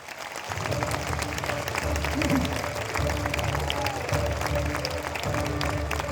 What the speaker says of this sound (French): je voudrais un tonnerre d'applaudissements pour les chevaux